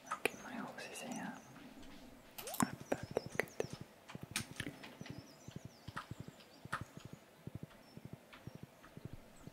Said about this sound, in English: Okay, my horse is here.